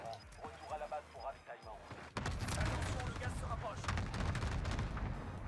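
Video game gunfire in a battle-royale match, opening on quieter in-game sounds with distant pops, then a sudden loud burst of sustained rapid shots that continues to the end, a voice talking over it.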